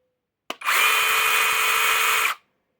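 Procraft PKA32Li cordless saw with an automatic oiling pump, starting with a click and running at a steady high-pitched whine for nearly two seconds before stopping, close and loud with silence around it.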